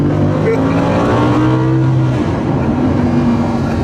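A 2015 Lamborghini Huracan accelerating hard on a motorway from about 10 to 70 mph, a loud continuous engine note rising in pitch through the gears, heard from inside the car.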